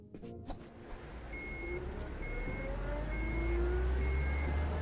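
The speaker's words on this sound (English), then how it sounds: "Crap, they started the engine." A truck engine in the stealth game Unmetal cranks and catches after a few clicks, then settles into a loud, steady rumbling idle that slowly grows and is joined by a faint repeating beep.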